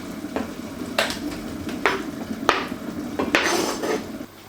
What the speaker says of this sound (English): So we just want to pop the meat into a pot,